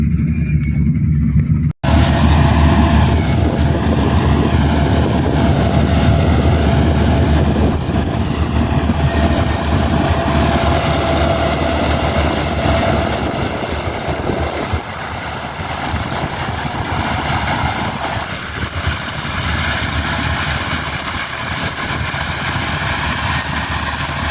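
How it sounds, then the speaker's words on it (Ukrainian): A combine harvester works through a barley harvest, its loud, steady mechanical roar and engine drone continuing close by throughout after a brief cut at the start. "Ось так працює наш комбайн."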